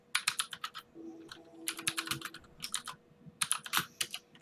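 Fingers type on a computer keyboard in quick bursts of sharp, close clicks with short pauses between runs of keystrokes, alone with no talking.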